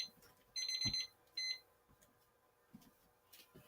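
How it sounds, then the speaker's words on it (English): A timer alarm beeps in two short bursts of high electronic tones, followed by faint handling clicks in a quiet room. "let me turn off that timer."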